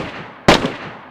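A single sharp gunshot from the survival video game DeadbyZed, one brief loud crack with a short decaying tail over quiet background.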